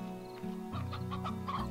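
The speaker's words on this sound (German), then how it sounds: "immer wenn ich gerade denke, wir haben alle, höre ich irgendwo noch ein leises Gackern" Chickens cluck repeatedly in the video game Slime Rancher, a run of short bursts in quick succession, close and moderately loud over a steady low game-music drone, with no talking.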